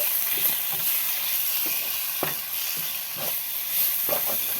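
Spices cooked down with tomato sauce in a pan for fish cutlets, a low steady sizzle with occasional scraping stirs, close and without talk.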